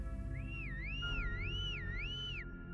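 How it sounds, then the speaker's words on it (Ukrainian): A warbling whistle that rises and falls in a repeating wavy pattern for about two seconds over a low steady hum. "Прислухавшись до свисту, я зрозумів, що він точнісінько як той, яким я кликав Сенді"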